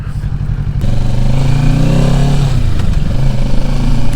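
A 2023 Kawasaki Ninja 650 cruises on the road, its engine droning loud and close with a rising rev and a shift, and wind rushing past.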